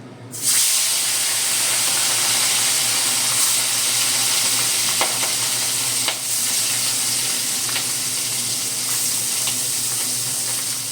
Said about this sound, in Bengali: মাছগুলো আবার ভেজে নেব।